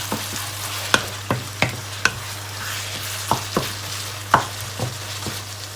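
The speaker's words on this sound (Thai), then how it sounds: "ใส่พริกลงไปผัดกับหมูจ้า" Minced pork with chili stir-fries for pad kra pao, cooked without vegetable oil in its own juices, with a steady sizzle and a low hum under repeated sharp spatula knocks against the pan, close and clear.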